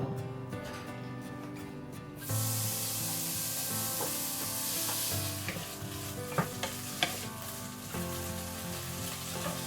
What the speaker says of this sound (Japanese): みりん、お醤油、 そして炒めますよ。